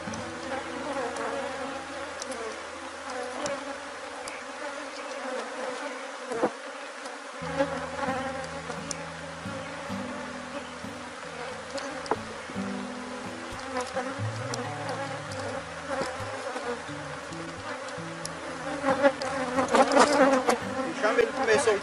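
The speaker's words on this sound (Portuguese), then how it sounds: "O enxame ele começou um pouco agressivo" A honeybee swarm hums steadily around opened hive boxes in midday-to-afternoon heat, the colony somewhat agitated while boxes are being swapped; a dense, continuous buzz fills the whole stretch and swells louder near the end, with no talking.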